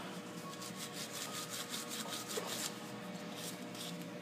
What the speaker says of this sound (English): you're going to want to clean up all the rust off of here